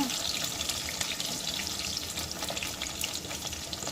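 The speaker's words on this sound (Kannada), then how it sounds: "ಒಂದು ಐದು ಈರುಳ್ಳಿ ಇದನ್ನು ಎಣ್ಣೆಲಿ ಫ್ರೈ ಮಾಡ್ಕೊಬೇಕು" About five onions fry in oil for a Hyderabadi paneer masala, giving a steady, close hiss and crackle that continues evenly throughout with no speech.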